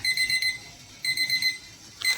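A kitchen timer going off after a 20-minute bake of coconut-milk nona manis cakes: bright, high electronic beeps in three short repeated bursts, clear and alone.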